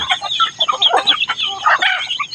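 A loud, busy chorus of chickens clucking and squawking close by while being fed, overlapping calls filling the whole moment without any speech.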